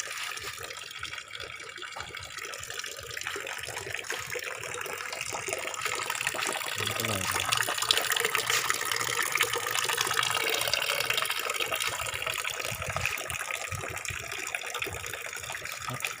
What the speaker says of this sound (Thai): ตอนนี้ก็ปล่อยน้ำทิ้งไปสักพักก่อนเพื่อให้ สารที่เคลือบใส้กรองมันล้างถูกล้างออกไปนะครับ